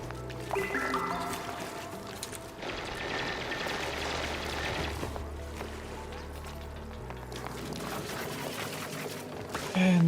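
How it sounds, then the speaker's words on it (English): Water draining in the video game Stone to Space, a continuous pouring and trickling sound at moderate level, shifting in texture over several seconds. "And it looks like the water over here is about to finish being drained out."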